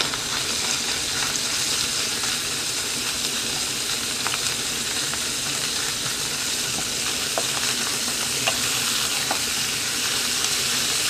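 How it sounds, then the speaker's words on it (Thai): Minced pork stir-fries in hot oil for an omelette, giving a steady, dense, loud sizzle with faint scraping from stirring. It runs unbroken with no talk. "น้ำมันร้อนแล้วเอาหมูลงไปรวนค่ะ"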